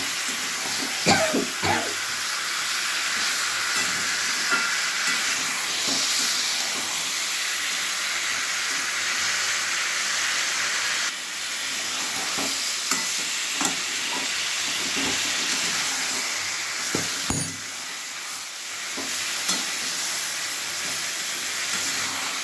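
Tender eggplant pieces fry in a pan with a constant loud sizzle and hiss, broken by occasional clanks and scrapes as they are stirred.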